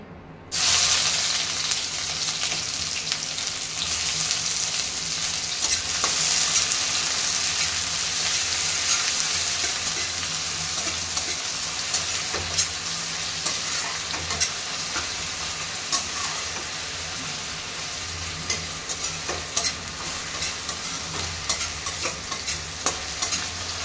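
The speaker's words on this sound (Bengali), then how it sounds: "চিনির এই কালারটা চলে এলে এর মধ্যে দিয়ে দেবো পেঁয়াজ কুচি" Chopped onion frying in a pan with caramelized sugar for a mushroom curry, stirred continuously; a steady loud sizzle runs throughout with frequent scraping stir sounds and no talking.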